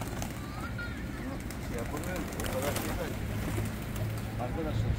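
Pigeon and turtle dove hybrid birds coo softly among wild pigeons, their low, repeated calls faint beneath steady outdoor background noise and wind.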